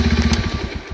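A motorbike engine chugs close by in a quick, even pulse of low throbbing beats over a brief moment, with no voices.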